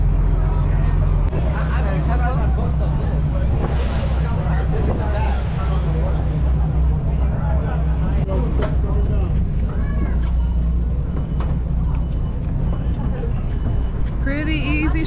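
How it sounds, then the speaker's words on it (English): A shuttle boat engine drones steadily under wind and splashing water at Half Moon Cay while several people talk and chatter throughout. "Shuttle boat."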